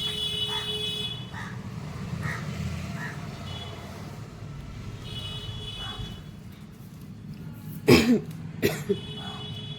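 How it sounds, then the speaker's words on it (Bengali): A person with a mild cold gives a short, dry cough followed by a couple of smaller coughs near the end, over a low, steady background rumble. "কেন শুকনো কাশি হচ্ছে বুঝতে পারছি না"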